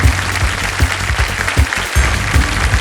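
Dense, loud audience applause fills a studio on the Indian quiz show Kaun Banega Crorepati as contestants are welcomed, sustained throughout with a rumbling low end.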